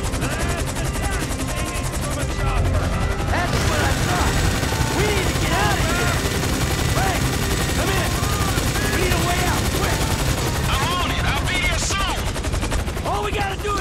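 Rapid sustained gunfire in a Grand Theft Auto game, dense automatic bursts running continuously and loudly throughout, with voices shouting in between the shots.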